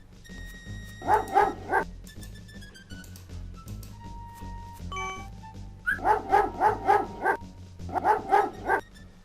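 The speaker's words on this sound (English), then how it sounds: "A bully of a dog terrorizes the poor ants as he playfully digs at their large anthill." In the King's Quest V video game, a dog digging at a large anthill barks in quick clustered bursts, loud and repeated, set among plinking synthesized game tones.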